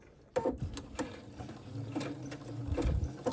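Sewing machine stitching onto the tape of a keychain wallet zipper, a close, quiet mechanical run of rapid needle clatter with a few distinct knocks and a steady low motor hum.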